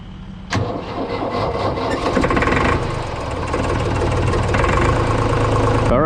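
A truck engine cranks and catches within a second, then settles into a loud, rough, rumbling idle that surges slightly and runs steadily close by, with no voices.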